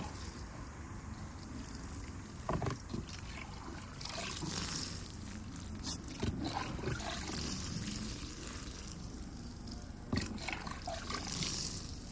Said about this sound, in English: we're going to take some water and we're going to soak it really well